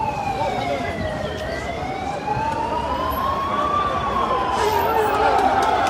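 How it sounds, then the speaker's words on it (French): A fire engine siren wails in long rising and falling sweeps as it passes through a large street march in Algiers, with a steady crowd murmur underneath. "Donc les pompiers sont en train de passer."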